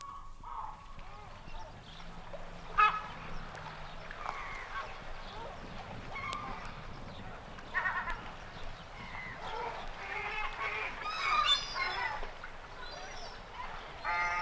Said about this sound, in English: Harbour atmosphere, including herring and lesser blackback gulls.